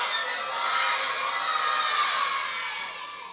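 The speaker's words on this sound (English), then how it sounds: "On 3, I want you to scream this out." Group of children at a K-Kids gathering screaming a callback phrase together in unison, a loud sustained shout of many young voices that swells and then tapers off.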